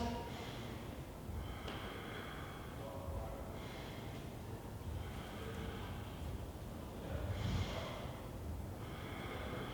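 Slow, steady breathing during a held yoga pose, soft inhales and exhales repeating in an even rhythm, close and quiet, with no talking.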